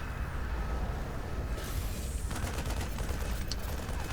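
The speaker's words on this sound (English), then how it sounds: "a siege tank is able to fire from such a distance" Siege tanks firing in a StarCraft II match, a dense and sustained barrage of loud overlapping explosive shots that rolls on steadily with no break.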